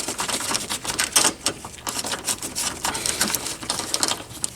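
A ratchet removing a 10mm bolt near the radiator of a 1998 Cadillac DeVille with a 4.6 L engine, giving fast, close, repetitive clicking bursts.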